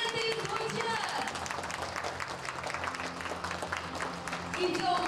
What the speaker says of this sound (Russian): Отрезали первую ленточку, аплодисменты звучат.